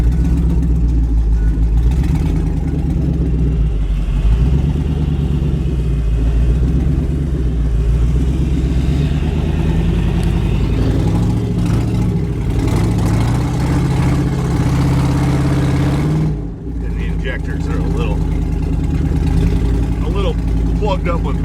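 An old truck with a 6-liter engine idles steadily, a deep, loud rumbling drone with slight unevenness, while a person talks over it.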